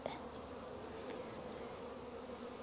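Honeybees buzz around a hive as foragers return carrying bright yellow pollen, making a continuous close droning hum with no voices.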